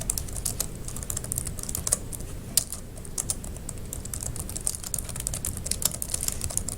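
Fast, steady typing on a computer keyboard while formatting a research paper, a dense run of crisp close keystroke clicks with an occasional louder key press.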